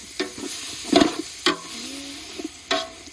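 Green curry paste is stir-fried in a pan, with a few distinct scraping stirs and a soft sizzle at irregular intervals, close and fairly clear.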